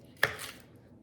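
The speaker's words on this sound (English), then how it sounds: "I just cut those into little slices." A single crisp knife stroke cuts through sweet mini peppers on a board, one short close slice followed by a faint rustle as the pieces fall apart.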